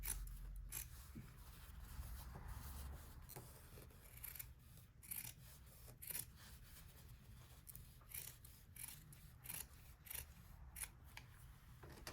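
Scissors trim fabric for a misses' jacket, a series of quiet close snips and rasping cuts repeating irregularly over a soft background with no speech.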